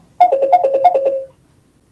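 A phone rings with an incoming call during an online talk, a loud electronic ringtone melody of about eight quick chiming notes that plays alone and then stops.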